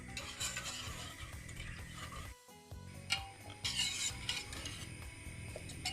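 A spoon scrapes and clinks steadily around a pot of milk being stirred for chocolate cake cream, a close, rhythmic sound with one brief pause before the stirring resumes.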